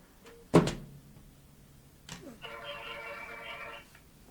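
An outgoing phone call rings out with a steady tonal ringback lasting under two seconds, preceded by a sharp knock-like thump and a short pause, with no talk.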